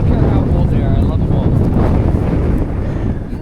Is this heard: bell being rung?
no